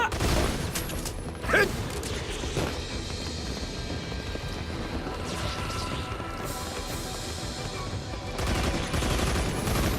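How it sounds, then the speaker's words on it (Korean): Sustained automatic gunfire and crashing explosions from the video game Earth Defense Force 5, dense and loud throughout with a few sharper impacts, no clear speech. "저기 전멸할 때까지 계속 쏴라"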